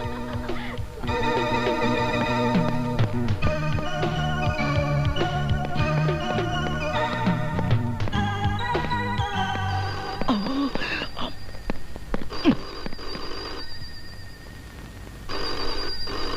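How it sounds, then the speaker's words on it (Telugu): A melodic phone ringtone plays loudly and continuously, dipping briefly near the end before starting up again. "పాపం ఏదో అర్జెంట్ ఫోన్ కాల్ ఉంది"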